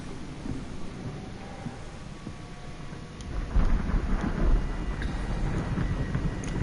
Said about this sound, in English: No, that's not lightning, it is earthquake.